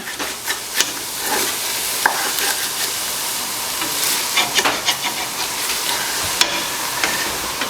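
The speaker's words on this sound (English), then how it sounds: "I'm going to add it just a bit at a time and try to get this stuff up. Deglaze it along the way." Broth added bit by bit to a pan of onions for French onion soup, deglazing it, with a loud steady sizzle and hiss under close scraping stirring strokes.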